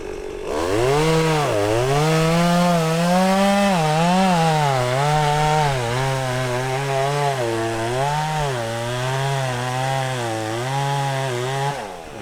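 A chainsaw cuts through a tree, its loud, close engine whining steadily and shifting pitch as the blade bites, running continuously without a clear fall.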